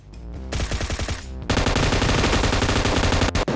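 Groza assault rifle in PUBG Mobile fires close and loud, first in quick rhythmic bursts and then as a sustained automatic stream with dense overlapping shots. Near the end it cuts briefly twice.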